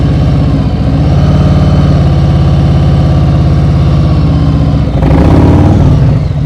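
A motorcycle engine idles and pulls in first gear during a slow-speed balance exercise, a loud, steady close-up throb that swells slightly near the end as the throttle opens.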